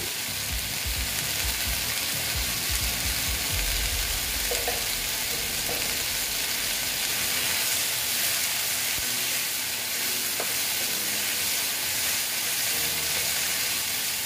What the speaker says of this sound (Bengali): হলুদটা দিয়ে ঢেঁড়সটাকে আমি ভেজে নিচ্ছি ভালো মতন।